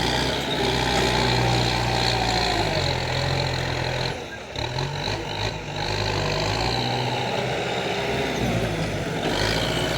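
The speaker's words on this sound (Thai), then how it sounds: "รถไถออกแรงหนักหน่อยครับ งานนี้" A farm tractor pushing soil under heavy load, its engine droning loud and steady with a low throbbing hum, dipping briefly midway before straining on again.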